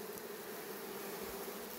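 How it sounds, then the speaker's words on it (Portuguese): Bees swarm around wild honey taken from the forest in northeastern Brazil, a steady close insect buzz that fills the whole short stretch without any voices. "vocês não escutam todo barulho, a não ser das abelhas"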